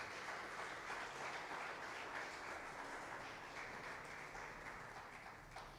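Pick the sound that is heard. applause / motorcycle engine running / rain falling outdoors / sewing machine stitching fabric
applause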